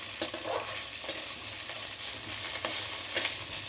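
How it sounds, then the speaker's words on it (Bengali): Vegetables, potatoes and ginger are stirred in a frying pan, with a soft sizzle running underneath and a few sharp scrapes and clinks of the spoon against the pan. "এবারে এটা একটু নাড়িয়ে নিই।"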